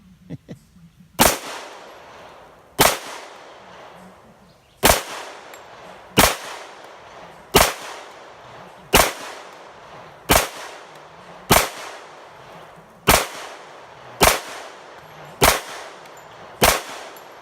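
A Para Ordnance 1911 pistol set up in competition mode fires a steady string of about twelve sharp, loud single shots roughly a second and a half apart, each one ringing briefly before the next.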